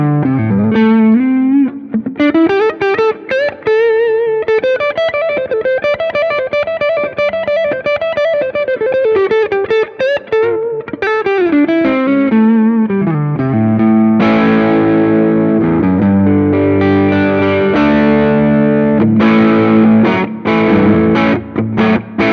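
Electric guitar played through a Seymour Duncan 805 overdrive pedal set for a little gain, loud and close, with sustained melodic lines sliding into denser chorded passages, no talk.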